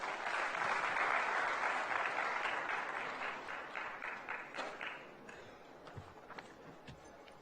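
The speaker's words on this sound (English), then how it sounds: "A warm round of applause as we welcome her." A crowd at the SOA Literary Festival 2025 claps to welcome a speaker, starting as a dense burst of applause that gradually thins into scattered individual claps and fades out.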